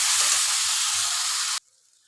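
Tangra fish masala being cooked down in oil with a little water and turmeric gives a loud, steady sizzle and hiss that cuts off abruptly near the end, leaving quiet.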